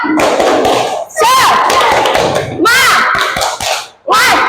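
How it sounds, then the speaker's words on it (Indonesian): A classroom of children performs a rhythmic group clapping chant, sharp claps and thumps in bursts mixed with young voices calling out together. "kita tepuk semangat dulu"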